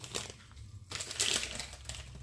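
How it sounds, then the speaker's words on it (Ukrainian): A block of cheese is rubbed against a hand grater in a home kitchen, producing soft scratchy strokes in short irregular bursts, close by and quiet. "беру сир і натираю"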